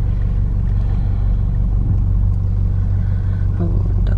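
Steady low engine rumble and road noise inside a car on the drive home, loud and continuous with no voices.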